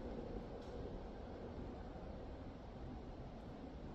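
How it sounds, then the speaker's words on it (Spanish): Faint, distant trains rumble in a low, continuous wash heard from within a quiet forest, with a soft breeze mixed in and no voices. "solo se escuchan los trenes a la lejanía"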